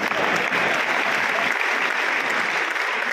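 A hall full of listeners at a Hindi comic poetry gathering in Kolkata's Kala Mandir breaks into loud, sustained clapping, dense and even throughout with no pause.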